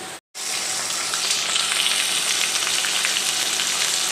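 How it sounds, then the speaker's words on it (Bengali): Ground paste of ginger, garlic, onion, green chilli, garam masala and salt fries in a hot pan for egg bhuna, a loud, dense, continuous sizzle that starts abruptly after a brief silence and holds steady. "সব মশলাগুলো আমি একসাথে দিয়ে দিচ্ছি"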